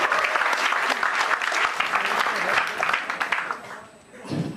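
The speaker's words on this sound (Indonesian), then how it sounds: "Langsung aja tepuk tangan untuk Mukti Entut." Live audience at a stand-up comedy show applauding as a comedian is introduced, dense continuous clapping with some cheering that carries loudly before tapering off near the end.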